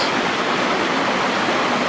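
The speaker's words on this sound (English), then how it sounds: "this is by far the most water I've ever seen coming down here now that the snow is melting up on the hills" Snowmelt water rushes down from the hills in a stream, a loud, steady, broadband roar with no pauses.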